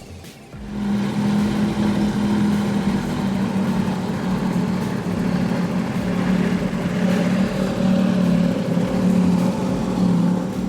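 A 353 Formula Fast Tech powerboat throttles up, a loud, steady low engine roar with a sustained drone that holds strong across the stretch.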